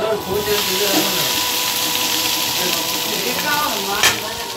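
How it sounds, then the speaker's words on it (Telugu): Okra pieces fry in hot oil with a loud, steady sizzle and crackle, a brief sharper burst of hiss near the end, and no speech over it. "ఆయిల్లో బాగా ఫ్రై చేద్దాం బెండకాయ ముక్కలు అన్నిటినీ"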